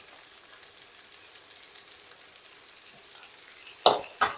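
Yardlong beans being added to a pan and stir-fried with vegetables give a low, steady sizzle, followed near the end by two sharp clatters as the ingredients are tossed and stirred.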